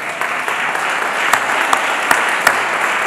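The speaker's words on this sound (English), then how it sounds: "Help me bring them up here with a round of applause for Chicago Beyond." Audience applause at a spring graduation ceremony, steady dense clapping from a crowd that carries through the whole stretch, with a few sharper claps standing out near the front.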